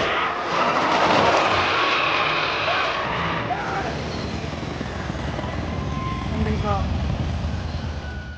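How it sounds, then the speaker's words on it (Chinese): A helicopter in a film scene at an Antarctic base, lifting off to carry injured team members, gives a steady, loud rotor and engine roar for the whole stretch with no pauses. "而此时直升机正要送受伤的队员去医院"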